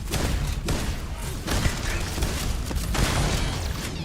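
Gunshots in Starfield, a quick run of sharp, loud reports at irregular intervals over dense, noisy combat ambience with no talking.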